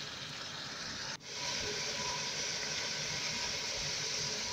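Beef frying with spices in a pan for Lucknowi polao, a steady broad sizzling hiss with a brief dip before it resumes evenly.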